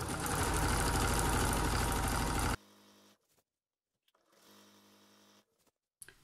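A sewing machine runs loud and steady for about two and a half seconds stitching a seam on a grocery shopping bag, then drops to a faint hum with a short burst of quieter running later.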